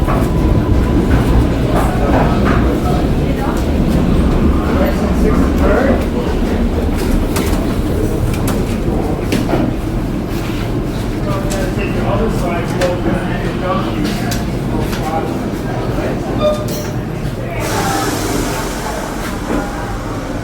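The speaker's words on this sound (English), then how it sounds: "This is a Manhattan bound 7 local train." Rumbling Manhattan-bound 7 local subway train in motion, a continuous heavy roar with rhythmic clatter from the wheels, sustained and close; speech is faintly present beneath.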